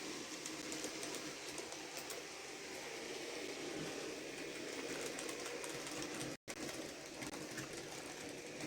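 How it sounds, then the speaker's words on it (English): A model railway class 43 train climbing a hill on a layout, a faint steady mechanical whirr and rattle that runs continuously with a brief dropout near the end, no talk. "the class 43 is on its way back up the hill"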